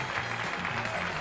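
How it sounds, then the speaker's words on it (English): A brief patch of crowd clapping, continuous and moderately loud, with low droning voices mixed underneath. "Yeah, keep clapping"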